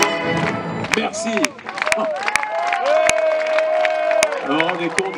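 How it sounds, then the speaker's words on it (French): A large audience in Marseille applauding and cheering for a host at an evening show: sustained loud crowd clapping and cheers, with a few sharp louder claps and a voice rising over the noise. "vous entendre applaudir comme ça"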